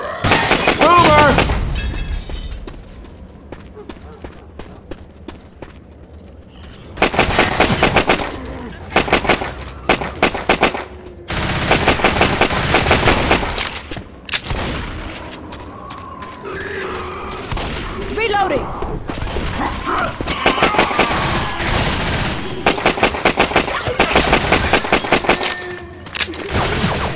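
Rapid automatic gunfire bursts from a machine gun in the zombie shooter Left 4 Dead 2, loud and repeated across the stretch, mixed with shattering impacts and game noise while players talk over it.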